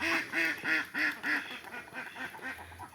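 Domestic ducks kept for eggs quack loudly and close by in a quick run of about five calls, followed by a softer, busier stretch of overlapping quacks.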